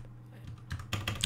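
Keys typed on a computer keyboard, quiet light taps at first, then a denser burst of clicks in the last half second, with no talking.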